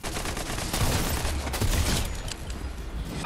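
Rapid bursts of weapon fire from the Fortnite video game crackle in dense, repeated volleys that go on throughout, loud and without talk.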